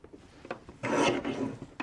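A paper trimmer cuts cardstock for scrapbook pages: a few light taps, then a close, sustained rasping slide of the blade across the sheet, with no talking.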